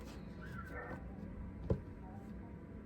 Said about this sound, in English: Did y'all hear that? My neighbor's dogs.